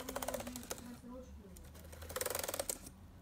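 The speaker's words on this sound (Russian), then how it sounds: "Все клавиши нажимаю" Computer keys clatter in quick bursts of close, crisp clicks, with a pause of quieter background between the runs of typing.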